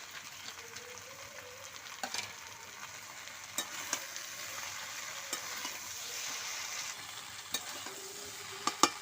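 Chickpeas, peanuts and spiced vegetables for pachon are stir-fried in a pan. A soft, steady sizzle runs under occasional scraping strokes of a spoon, faint and close.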